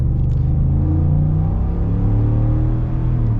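A Ford F-150 Black Widow's 5.0L Coyote V8 revs loud and close, a deep steady rumble with the engine note climbing and holding under throttle, no talking over it.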